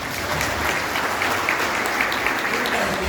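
A church congregation claps together during a sermon, producing a dense, even wash of applause that holds steady and fairly loud from start to finish.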